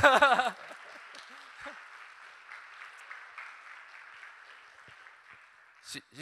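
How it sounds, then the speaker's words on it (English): A voice speaks briefly at the start, then applause from the audience at a retreat follows as a soft, steady clatter of clapping that fades slightly near the end. "Let's give her a round of applause."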